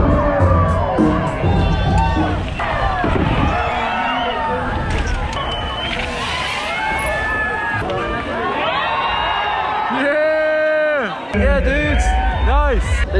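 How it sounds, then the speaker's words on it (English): Dense, continuous crowd roar and cheering with shouting voices at an urban downhill mountain bike race in Taxco, loud and sustained throughout, with whistles and excited calls rising above the din. "it's the crowd's going mental"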